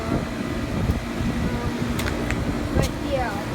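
Goodman air conditioner condensing units, including a 3-ton 2013 model, running outdoors with a steady loud fan and compressor drone, a few faint clicks and rattles over the hum.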